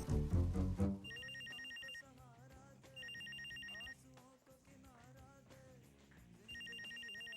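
A telephone rings in short repeated bursts from an indoor comedy scene, three trilling electronic rings spaced apart over a music bed, fairly clear and without talk over them.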